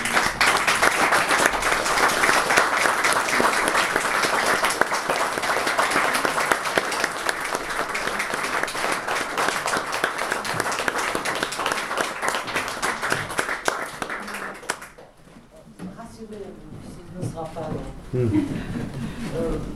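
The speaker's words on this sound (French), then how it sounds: "Comme vous n'avez pas de verre, je vous demande d'applaudir Ursula" Sustained applause from an audience fills most of the clip, dense and steady, then fades out, leaving quieter murmuring and a voice near the end.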